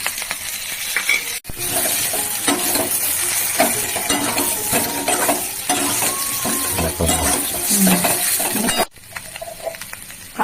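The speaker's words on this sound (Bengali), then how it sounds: "এবার ওর মধ্যে ভাজি।" Potatoes frying in a pan with turmeric, ginger, cumin and green chili paste, a steady broadband sizzle with scattered clinks and scraping from stirring, loud and continuous, briefly cutting out near the start and end.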